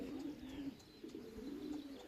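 Racing pigeon cooing at a loft after a 360 km race from Mlawa, a low steady coo repeating through a faint background chirp, fairly close.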